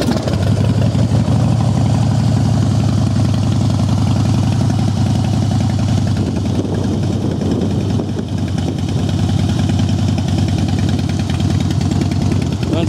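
A used Harley-Davidson Fat Boy FLSTF motorcycle engine runs close by with a loud, steady low rumble that holds for the whole stretch.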